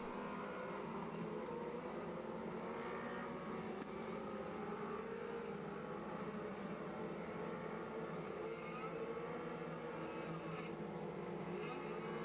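Several race cars idle and roll toward the start of a ten-car, ten-lap heat race at a Labor Day shootout, a steady distant engine drone with no clear revving peaks.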